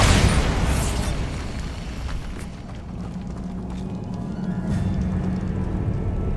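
Bombarda explosion spell in the video game Hogwarts Legacy: a loud, sharp blast at the outset followed by a sustained roaring, rumbling decay that swells slightly again toward the end.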